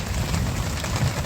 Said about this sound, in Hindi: बारिश हो रही है ज़बरदस्त